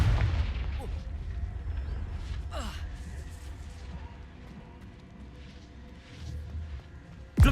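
Confringo fire spells in Hogwarts Legacy bursting as game explosions, a heavy rumbling blast with crackling debris settling into a low roar, then another sharp hit at the end.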